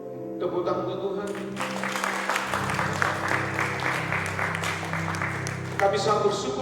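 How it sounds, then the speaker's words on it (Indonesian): A church congregation claps together during a Sunday worship service, a steady wash of applause rising over sustained worship music and singing, then fading as the music carries on. "Tepuk tangan untuk Tuhan."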